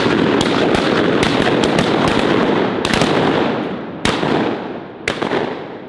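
Shotgun blasts during a duck hunt in flooded willows, a rapid volley of loud, sharp reports from several hunters close by, then a few spaced single shots that fade with brief echoes.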